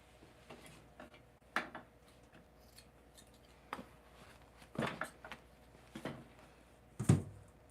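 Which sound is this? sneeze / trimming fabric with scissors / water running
trimming fabric with scissors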